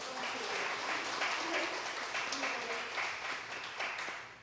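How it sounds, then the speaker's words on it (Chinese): A church congregation at a Taiwanese-language service claps together to welcome a man, a soft, even patter of many hands heard from some distance that tapers off toward the end. "我们拍手欢迎他"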